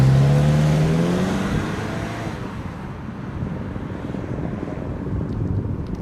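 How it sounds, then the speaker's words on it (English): Steady road and wind rumble fills the cabin of a 2014 Mazda3 2.5L sedan at speed, a broad even roar with a brief rising engine tone at the start and no voices. "It's a little bit loud on the inside, so the road noise is about the same."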